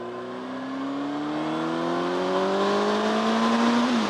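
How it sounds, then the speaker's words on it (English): A motorcycle with an exhaust that makes it sound carbureted, riding along near a bridge, its engine note rising steadily and holding loud and close throughout, with a brief dip at the end and no talking. "My bike kind of sounds like a carbureted motorcycle"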